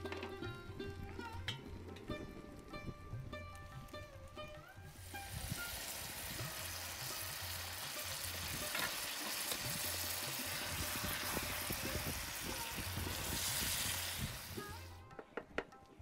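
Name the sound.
meat stock water poured into sizzling mutton in pan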